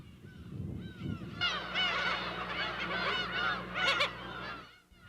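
A dense chorus of seagulls calls from a breeding colony on Dokdo island, starting after a quiet opening and then overlapping continuously as many birds cry loudly at once.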